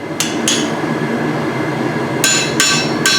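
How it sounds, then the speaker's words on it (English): A blacksmith hammers hot steel to widen a hole, five sharp ringing metallic strikes, two early and three close together near the end, loud and near with no talk. "Don't just hammer it in one spot, move it around the edges, and it'll help that hole stay even"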